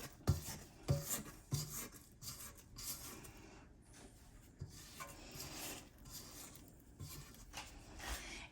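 Spatula scraping the sides of a KitchenAid mixer bowl full of chocolate chip cookie dough, giving a series of quiet rubbing strokes with a few sharper knocks near the start, close and faint with no talk.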